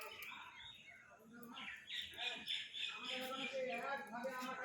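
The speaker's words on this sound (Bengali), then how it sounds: "দেখো আবার পায়রা আসছে।" Pigeons flying around overhead above a house, their chirps and calls scattered across the whole stretch, with a person talking over them.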